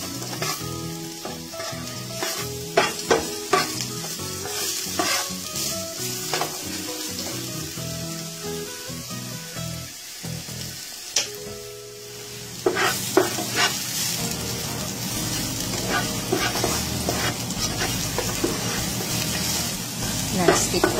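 Garlic fries in oil in a non-stick pan, giving a continuous close sizzle broken by stirring clicks, and it grows louder and denser after a brief lull partway through.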